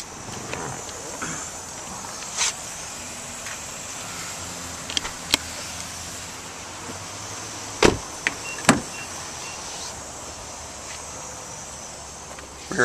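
A power sunroof on a 2007 Nissan Maxima opens inside the car, a low, steady motor hum beneath constant cabin hiss, broken by a few sharp clicks and taps.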